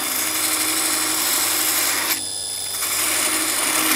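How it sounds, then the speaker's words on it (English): Brass tubes are sanded on an 80 grit wheel in a woodturning shop. A steady, loud, broadband grinding whir runs throughout, dipping briefly about halfway before picking back up. "that's an 80 grit wheel I'm using there"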